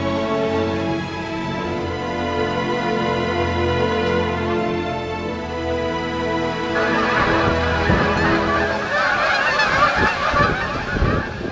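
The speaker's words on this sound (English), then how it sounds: "Look at all those Canadian gooses. There's a lot of Canadian gooses out here." A flock of Canada geese honks continuously outdoors near an RV campsite in Door County, Wisconsin, with overlapping calls that grow busier and louder toward the end.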